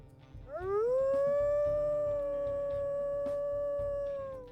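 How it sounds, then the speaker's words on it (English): A single wolf howl in the game WolfQuest, rising quickly into a long, sustained, clear tone that holds steady for several seconds before tapering off, with faint background sounds beneath. "We'll listen to his howls here as well."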